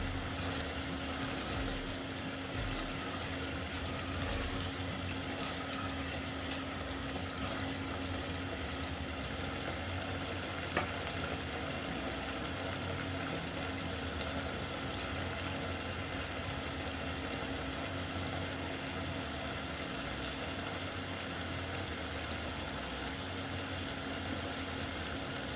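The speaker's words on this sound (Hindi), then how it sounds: "अभी आप देख सकते हैं कितने अच्छे तरीके से बबलिंग हो रही है" Mughlai tande gosht masala bubbling steadily in released oil, a continuous soft simmering and popping texture at low level throughout with a faint steady hum beneath, no voices.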